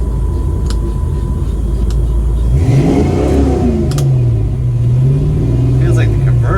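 A Ford Mustang foxbody engine idling and then revving hard, the pitch rising and wavering as a slipping torque converter lets the revs climb and flare without steady pull; loud and close, with someone talking over it.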